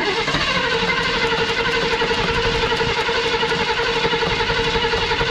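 A 1969 AMC Rebel engine cranks steadily while the gas pedal is pumped, a loud, continuous mechanical churn with a repeating rhythmic pulse that runs unbroken for several seconds, with no one speaking.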